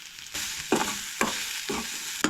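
Grated coconut roasting in a pan, a steady dry sizzle broken by several scraping stirs of a spatula at roughly half-second intervals, close and clear with no talk.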